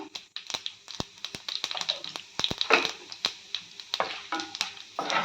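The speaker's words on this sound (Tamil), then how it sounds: "கடுகு நல்லா பொரிஞ்சிச்சுங்க" Mustard seeds splutter and pop in hot oil while cooking wheat rava kichadi, giving dense, irregular sharp crackles and snaps close by throughout, with no talking.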